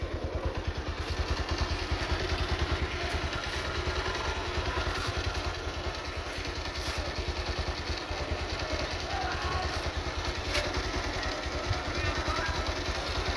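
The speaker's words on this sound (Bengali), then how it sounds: "এখনো আমরা স্টার্টে রেখেছি গাড়িটা, একদম একদম স্মুথ ইঞ্জিন সাউন্ড" A used Bajaj Pulsar motorcycle idles with a smooth, even, rapid thumping that stays steady and close throughout.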